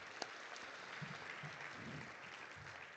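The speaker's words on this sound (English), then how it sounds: "one big round of applause once again for Paco Valcarcel" An audience at a boxing hall of fame induction ceremony claps steadily, a soft, even wash of applause with a few sharper claps standing out.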